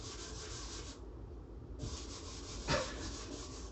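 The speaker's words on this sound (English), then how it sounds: "so once you sand it down" A guitar neck is sanded by hand in short back-and-forth rubbing strokes, faint and close, with a brief pause and a small knock between passes.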